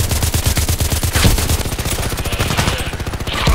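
A teammate's automatic rifle fire in Contract Wars, a loud, fast, unbroken stream of close-range shots rattling throughout.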